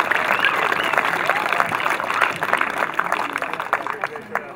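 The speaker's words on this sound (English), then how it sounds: "let's have a big round of applause for Greg LaSorsa for all you have done for Lewisboro" A crowd applauding at a youth baseball opening day, steady dense clapping with scattered cheers throughout, moderately loud, no speech.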